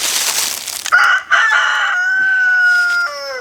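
A rooster crows loudly and close on a homestead, a long drawn-out call following a burst of clucking and squawking chickens, with no talk.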